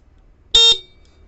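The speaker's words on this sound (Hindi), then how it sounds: "हॉर्न बजा के दिखा दूँ" A Hero Xoom scooter's electric horn gives one short, loud, buzzy honk at close range, with no other sound around it.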